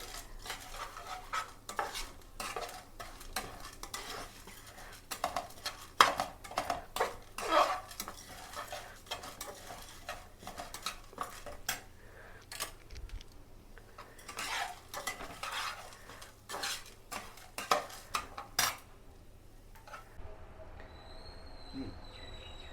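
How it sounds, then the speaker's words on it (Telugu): Coriander seeds and spices dry-roasting in a pan, stirred steadily with a spoon, giving repeated scraping clinks and light rattles of seeds against metal at close range, with faint background noise and no talk. "ఇవన్నీ దోరగా కొంచెం క్రిస్పీగా వేగిపోతే ప్లేట్లోకి తీసుకొని"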